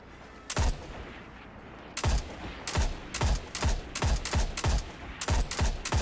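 Rapid bursts of rifle fire from the Mida Multi-Tool in a video game, a dozen loud sharp shots fired in quick succession after a brief pause, with no talking.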